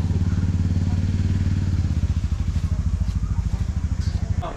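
A motorcycle engine thumps rhythmically at low revs near Da Nang, close and steady, with the pulses slowing and loosening toward the end as the bike pulls away.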